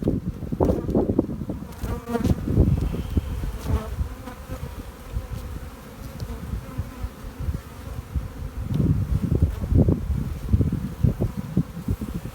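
Honey bees hum in a dense, continuous drone around an opened hive of overwintered nucleus colonies, close and loud, swelling and fading as they move near.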